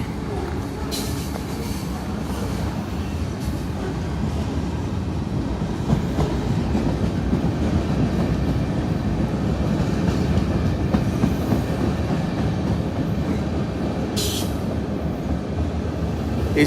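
CSX freight train 648 rolls into the south end of Howell rail yard in Evansville, Indiana, a steady nearby rumble of wheels and cars with faint clicks and a brief squeal, continuous throughout.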